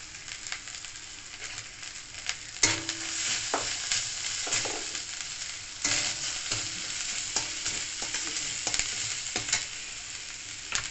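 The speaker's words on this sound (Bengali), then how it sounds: "এটাকে ভালো করে ভেজে নিতে হবে।" Red amaranth leaves (lal shak) sauté in a hot pan for a Medinipur-style tok, with a continuous sizzle and repeated scraping and stirring knocks from a spatula, close and clear with no talking.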